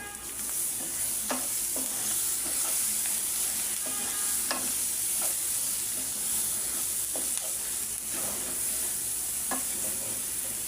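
Spice masala of turmeric, coriander powder and ginger-garlic paste frying in a pan for a prawn and eggplant bhuna, a steady sizzle with repeated stirring scrapes throughout, close and continuous.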